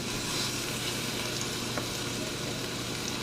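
Country style spare ribs browning in a pan, a steady close sizzle and crackle of frying meat holding level throughout with no talking.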